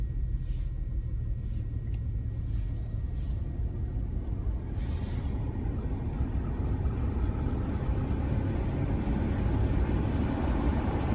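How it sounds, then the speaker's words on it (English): Climate control blower fan in a Volkswagen Mk4 R32 runs as a steady, dense rumbling whoosh inside the cabin, constant and fairly loud with faint ticks above it and no talking. "Let me turn the blower on."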